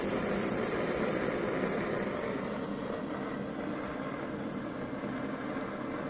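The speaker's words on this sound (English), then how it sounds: "If we stop the engine," A propane-fuelled Stirling engine runs with a steady mechanical hum and low rumble that slowly fades slightly as it winds down, close by and moderately quiet, with no voices.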